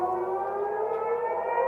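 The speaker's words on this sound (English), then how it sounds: "You can obviously hear the sirens." Civil defense air raid sirens in Israel wail in a steady, sustained tone, loud and continuous throughout with no pauses or voices.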